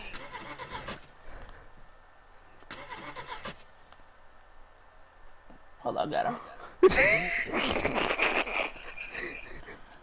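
An overheating car in the DayZ video game gives a steady, faint mid-pitched engine hum under bursts of excited talking and laughter, which grow louder toward the end.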